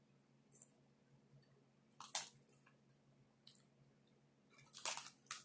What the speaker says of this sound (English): Nice to be able to crunch on something and not break a tooth